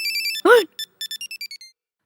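A mobile phone ringtone rings out loud and close, a chirpy electronic melody of short repeated beeps, briefly cut by a voice before the tone continues in quick pulses and stops.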